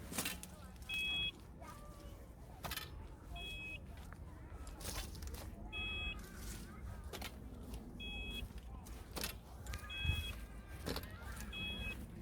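Short electronic beeps from a ground resistivity meter repeat at regular intervals, each a brief double tone, over faint outdoor background noise and occasional clicks, on a field survey in Calverley.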